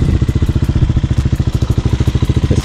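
A Hawk 250cc street-legal dirt bike runs close and loud, its single-cylinder engine pulsing in a fast, even chug at low speed around the block.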